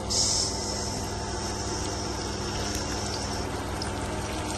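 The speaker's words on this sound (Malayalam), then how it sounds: "നമ്മുടെ മീൻകുട്ടന്മാരെ ഇടുവാണ് അപ്പോൾ ശബ്ദം കേൾക്കും" Fresh fish, caught the day before, sizzles as it drops into hot oil in a home kitchen: a steady, close hiss of frying with a brief louder burst at the start, no voices.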